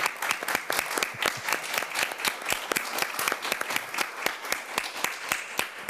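In the Telefe Noticias studio, people applaud the news staff and technicians with a loud, steady clapping rhythm that continues unbroken throughout.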